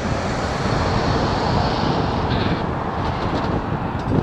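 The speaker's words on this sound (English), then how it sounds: "A little bit windy." Strong wind buffets a microphone outdoors on a cloudy day, producing a loud, constant low rumble with no breaks and no voices.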